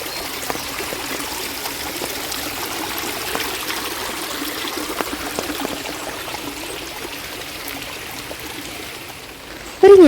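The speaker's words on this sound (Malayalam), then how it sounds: "രണ്ട് ദിവസമായിട്ട് ഗംഭീര മഴയാണ് നല്ല കേട്ടോ വീടിൻ്റെ മുറ്റമൊക്കെ ഇങ്ങനെ നല്ല വെള്ളമായിട്ടാണ് നിൽക്കുന്നത്" Water from days of heavy rain runs and trickles across the flooded yard of a Kerala home, a continuous close gurgling flow with a sudden louder burst at the very end.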